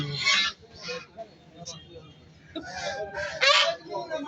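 Geese honk in loud, repeated bursts close by at a village market, mixed with people talking.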